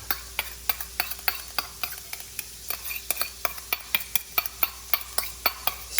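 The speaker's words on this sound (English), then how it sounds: "saute that garlic real quick, just like that, just to get the flavor up" Garlic sautés in a pan while a utensil taps and scrapes rhythmically, about three sharp strikes per second over a continuous background sizzle and hum, close and clear with no speech.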